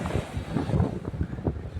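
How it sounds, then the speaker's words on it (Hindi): Fierce sea waves crash and churn around a small fishing boat, surging water and heavy wind buffeting the microphone in uneven rough bursts close by. "ये क्या सच में इतनी भयानक लहरों के बीच ये छोटी सी नाव लेकर जा पाएंगे"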